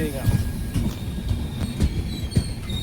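A train pulls into a station in Ankola, its wheels rumbling, clacking and squealing close by and fairly loud, with voices talking nearby.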